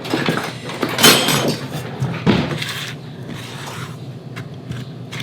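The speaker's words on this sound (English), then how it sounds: "let me get a whisk and we'll mix that together" Salt is whisked into the dry biscuit ingredients in a bowl, giving close rhythmic scraping and metallic clicking of the whisk against the bowl, louder strokes early and softer mixing after, no talking.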